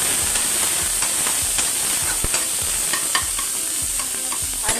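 Finely chopped green chillies sizzle and hiss steadily in a hot pan over a high flame, with intermittent scraping clicks of a spoon stirring them, close and continuous without speech.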